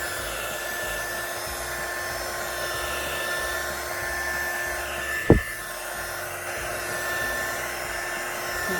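A heat gun warms resin on a galaxy tumbler, blowing with a steady airy whir and faint whine at close range, with a brief sharp click midway and no talking.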